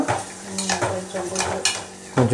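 A utensil scrapes and clatters against a pot while curry leaves and tomatoes are stirred, several quick strokes in a row over faint sizzling.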